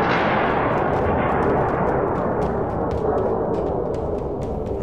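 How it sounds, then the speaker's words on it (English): A single loud explosion during a wartime bombing attack on a ship, opening with a sharp blast that decays into a long rumbling roar, with faint crackles scattered through the tail. "Then there was an explosion."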